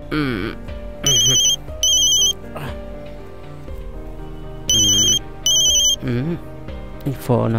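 A phone ringtone sounds in short, loud electronic bursts, repeating twice in a pair, then again after a pause. Voices and other sounds fill the gaps between rings.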